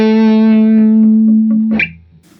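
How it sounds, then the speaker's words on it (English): A sustained electric guitar note through a Dumble-style pedal with low-end compression switched on, ringing full and even with a clean tonal sustain before it is cut short by a brief scrape. "Let's hear the low end compression body thing."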